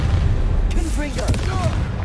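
A Confringo blasting spell fired in Hogwarts Legacy, a loud booming burst with whooshing magical tones sweeping over it, while a voice calls out during the blast.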